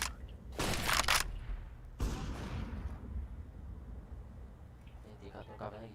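A flashbang grenade is thrown in Counter-Strike: Global Offensive, with a sharp loud burst followed by another blast and a fading ringing tail. Players talk faintly over it.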